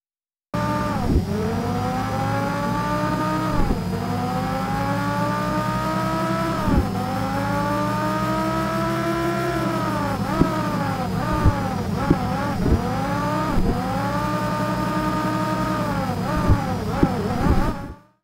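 A sound-designed car engine revs hard and continuously, pitch sweeping up and down through repeated gear changes, loud and close.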